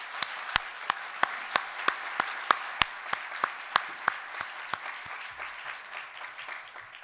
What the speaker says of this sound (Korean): 하나님께 영광의 박수를 올려드리겠습니다.